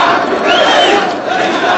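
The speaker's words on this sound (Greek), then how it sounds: "Με ζητοκραυγές και χορούς υποδέχθηκε το πλήθος στην πλατεία Ταχρίρ τη λακωνική ανακοίνωση του Αντιπροέδρου" A huge crowd in Cairo's Tahrir Square cheers and shouts, celebrating an announcement by Vice President Suleiman: a loud, dense roar of many voices with rising whoops, sustained and close.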